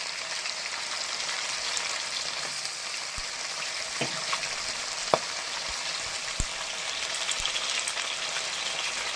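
Fish frying in oil, a few pieces at a time: a steady, dense sizzle runs throughout, broken by occasional sharp pops and spits, with no talking.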